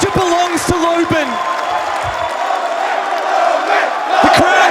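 Esports crowd cheering at the Atlanta Major Grand Final between LOS and W7m, a loud sustained roar of many voices filling the arena, with an announcer's voice talking over it.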